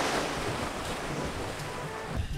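Sea waves washing onto a beach, a steady broadband wash of surf mixed with wind rumble against the microphone, continuous and fairly close, with no talking.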